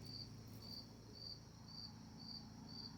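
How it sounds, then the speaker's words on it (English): Crickets chirp steadily at night in a regular pulsing trill, close and clear against quiet background, with no voices. "Right now I'm listening to the crickets."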